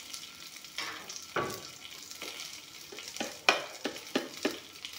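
Pieces of fish fry quietly in a pan: a soft crackling sizzle broken by several sharper spatters and light utensil knocks, close by and fairly faint.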